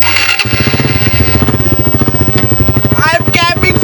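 A motorcycle engine catches and settles into a loud, close, pulsing putter, revving as it sets off, with a voice briefly speaking near the end.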